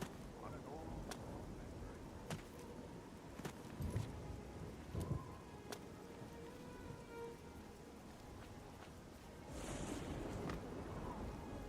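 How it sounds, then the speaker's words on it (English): Steady rainfall in the game Oblivion hisses throughout, broken by occasional sharp taps and knocks, with a heavier burst of rain near the end. "It's raining, my guys."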